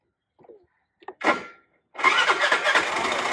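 A 2023 Suzuki Access 125 BS6 scooter is switched on up close: a few soft clicks, then a short whir, a pause, and the engine catching and running steadily at idle, with no talk.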